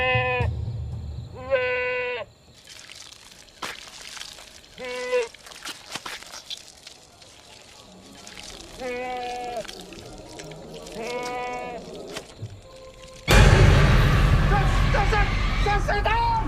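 Goats bleat in a pen in a dark village setting, several separate harmonic cries at intervals, fairly close, between quiet rustling and brief knocks. A loud, harsh burst of noise swells up near the end.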